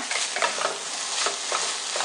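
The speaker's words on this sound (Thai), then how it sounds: "ใช้ตะหลิวนะคะ บีบีข้าวแบบนี้ค่ะ ดูให้ไข่กับข้าวเข้ากันดีก่อนนะคะ" Egg fried rice is pressed and tossed with a spatula in a sizzling pan, an unbroken loud frying hiss broken by repeated scraping strokes, with no voices.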